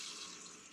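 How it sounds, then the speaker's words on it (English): Fresh water flushes out of a Perkins 4-108 marine diesel engine block into a bucket, a soft steady hiss of running water, faint and continuous with no voices. "So it's flushing the engine water,"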